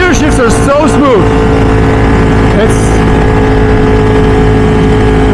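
A Ducati 1199 Superleggera motorcycle engine drones loud and steady on a sunny ride, with a rising rev early on and the note holding strong throughout.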